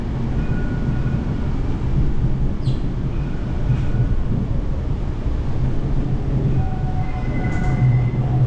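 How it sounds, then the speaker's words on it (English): Cincinnati Bell Connector streetcar rumbling toward a stop, a steady low rolling drone with faint wheel squeals and brief high chimes near the end, with no talking. "Cincinnati Bell Connector is now approaching the Brewery District."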